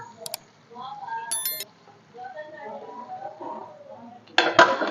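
A lid is set onto a pot of prawn curry with a sharp metallic clank near the end, following a few earlier light clinks of metal and a voice talking in the background.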